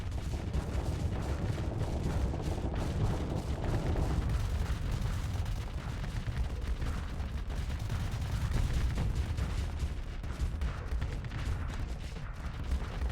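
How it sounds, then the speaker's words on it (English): Mjolnir cannons firing during ship combat in the Starsector space game, a dense, continuous barrage of heavy booming shots blending into a rumbling wall of sound, moderately distant and without any talking. "it fired off Mjolnirs that just went completely errant"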